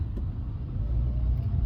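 Low, steady rumble of road traffic on a highway, passing cars and heavier vehicles blending into a continuous drone with no voices.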